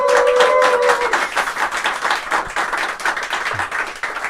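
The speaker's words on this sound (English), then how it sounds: "Give him a big round of applause" A studio audience at a highlight show for the Gordon Bennett gas balloon race applauds a bronze medalist, moderate and fairly steady clapping with a brief tone at the start.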